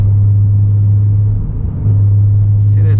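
A 2017 Ford Mustang with Flowmaster exhausts droning at about 2000 rpm while cruising on a road trip, a loud, steady low bass hum inside the cabin that dips briefly midway before resuming.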